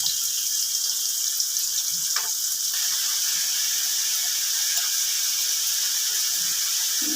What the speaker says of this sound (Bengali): এবার একটু হলুদ দিয়ে এটা ভাজা হোক